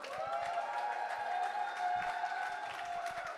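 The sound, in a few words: crowd applause for roller derby team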